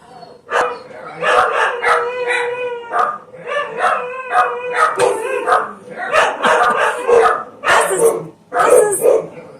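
A dog barks and howls repeatedly at close range, with loud drawn-out wavering howls mixed with sharp barks and yips that fill the whole stretch almost without a pause.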